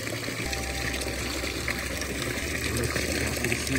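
Water streams steadily through the hoses of a DIY solar pool heater, a constant close rushing gush with no voices over it.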